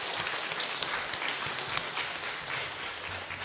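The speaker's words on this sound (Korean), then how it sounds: "우리 다시 한 번 더 말씀 전해주신 목사님께 박수 한번 드리겠습니다." A Sunday church congregation claps for the pastor after the sermon, a brief, fairly faint burst of dense applause heard from a distance.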